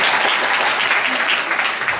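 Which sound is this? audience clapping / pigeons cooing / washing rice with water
audience clapping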